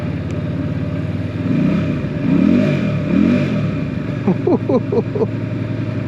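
A Keeway 302 V-Cruise motorcycle engine idles with a low rumble, then revs up in a few rising bursts before settling back, close by.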